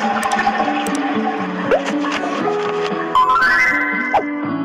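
A cartoonish toilet flush from a house-cleaning video game plays over bright synthetic game music, with a rising swoosh and a couple of short sliding effect blips.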